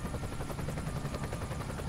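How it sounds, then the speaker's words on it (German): Helicopter rotor chop in the Emergency 2016 emergency-services video game, a steady dense whir with a faint rhythmic beat, continuous and fairly quiet throughout without any voices. "Ist mir der Heli im Weg."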